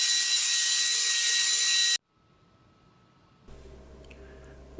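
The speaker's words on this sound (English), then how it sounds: "I picked up one of these Ryobi belt sanders and spent a whole afternoon sanding this thing down" A Ryobi belt sander working a plywood table top, starting as a loud, steady, high-pitched whine that cuts off abruptly, followed by a quiet pause and then low rumbling handling noise.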